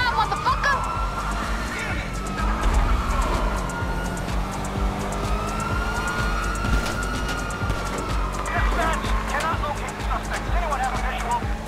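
A rough, strained, ragged car engine revs and drones continuously with sweeping pitch changes, under a busy game soundtrack and babble of voices, in GTA Online.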